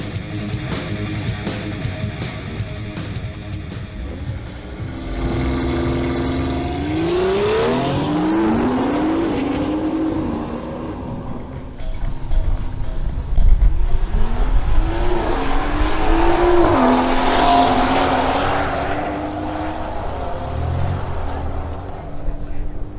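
Two BMWs, an X4M and an M140i, launch and accelerate hard in a drag race, engines rising through gear changes with tire noise, loud and close, an announcer's voice running over the roar.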